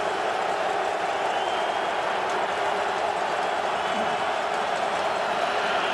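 Partisan Saskatchewan Roughriders crowd at Commonwealth Stadium during the 98th Grey Cup, a dense, continuous roar of a packed stadium that holds steady and loud throughout, with faint talk beneath it.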